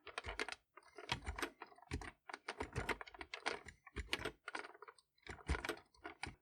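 Rapid clattering keystrokes on the plastic keyboard of a VTech PreComputer 1000 toy computer, quiet and close, coming in quick uneven bursts with short pauses and no voices.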